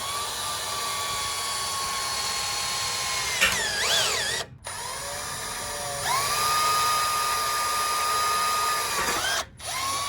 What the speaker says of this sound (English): Time to drill.